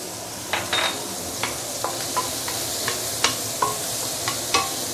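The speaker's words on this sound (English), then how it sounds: "Remember, just now I have some onion oil, so I'm going to add it in." Long beans frying in a pan as onion oil goes in, a steady loud sizzle with repeated scraping and clinking stirs of a utensil against the pan, no voices.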